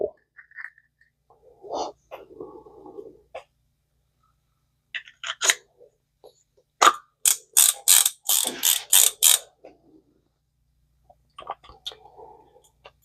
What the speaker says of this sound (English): make sure that line clicker is moving and give it a little bit of oil.